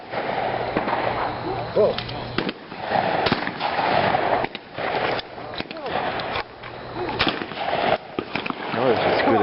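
A 12 gauge double barrel shotgun fired outdoors, several sharp loud blasts spaced a second or two apart, with people talking between shots.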